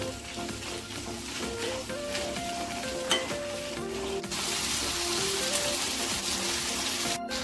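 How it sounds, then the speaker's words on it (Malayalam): Chili peppers and shallots fry in hot oil for a Kerala pappadam chammanthi. A dense, steady sizzle runs throughout, with occasional stirring scrapes, loud and close, and no talk. "ഒന്ന് വഴറ്റി കൊടുക്കാം അപ്പം തന്നെ മുളക് ഇട്ട് കൊടുക്കാം രണ്ടും കൂടെ നന്നായിട്ടൊന്ന് മൂപ്പിച്ചേർക്കണം"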